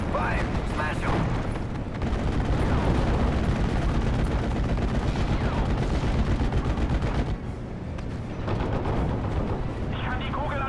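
Sustained gunfire and artillery in the WWII strategy game Steel Division Normandy 44, dense and loud through most of the stretch with rumbling blasts, briefly thinning before resuming, with voices talking over it.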